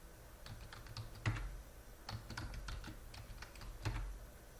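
Keys on a computer keyboard are tapped to enter a password in an indoor setting, a few quick clicks in short irregular runs, close but soft, with no talking.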